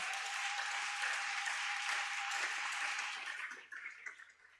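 A church congregation applauding loudly for Jesus Christ during a sermon, with dense, sustained clapping that fades out toward the end.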